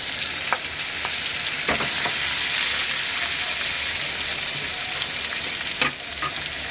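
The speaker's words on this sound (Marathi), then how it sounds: "आता थोडा गॅस फास्ट करून एक कांदे असे शिजून घ्यायचे।" Sliced onions fry over high heat in a little oil, giving a loud, constant close sizzle with a few sharp clicks and scrapes of a stirring utensil against the pan.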